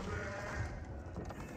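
Sheep bleating in the video game Age of Empires 4, a brief bleat heard over a steady game background with no talk.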